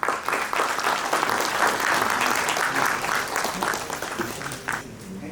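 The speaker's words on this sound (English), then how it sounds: "A round of applause for Mohammad Abdul Ghani" Sustained audience applause at a platinum jubilee celebration event in Kolkata, steady and fairly loud throughout before easing slightly at the close.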